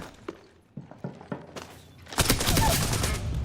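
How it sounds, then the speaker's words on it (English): Gunfire in the game Apex Legends: a few sharp separate shots and thumps first, then a dense sustained burst of rapid automatic fire filling the second half, loud and close. "Shooting at me."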